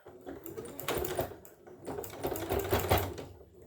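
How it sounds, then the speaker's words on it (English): A sewing machine runs in two steady bursts, basting a strap down onto the top of an exterior pocket on a hands-free eco bottle bag, with a brief pause between the close, continuous stitching runs. "we're just going to baste sew that down to the top of our pocket side exterior"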